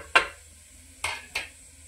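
Spices and garlic for masala dal khichdi hit hot oil for tempering, giving three sharp spattering bursts close by, each fading quickly over a low background hum.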